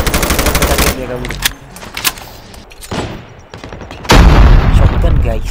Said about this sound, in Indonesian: Shotgun, guys. Shotgun.